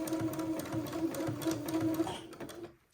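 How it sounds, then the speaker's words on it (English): A sewing machine zigzag stitches entre-deux lace trim to the side of a fancy shirt panel, a close, steady rapid whir of needle strokes that slows and stops at the end. "I have my entre-deux trimmed and I have begun to zigzag it to one side of my fancy panel."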